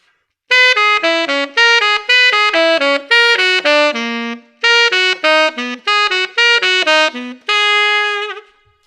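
A tenor saxophone plays a slow 2-5-1 jazz line, a run of clear, close, loud notes with short breaks and a held final note.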